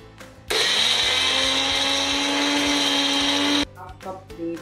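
An electric mixer grinder whirs loudly and steadily for about three seconds, crushing ginger, salt and spices into a paste for paneer seekh kebab, then cuts off abruptly into quieter kitchen noises.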